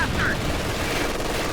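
Continuous rattle of machine gun fire in the real-time strategy game Company of Heroes 2, steady and fairly loud with battle rumble beneath, during an Allies versus Axis match.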